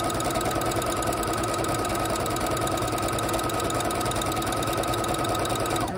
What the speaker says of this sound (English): We're going to back stitch it, and then we're just going to sew a straight line all the way down.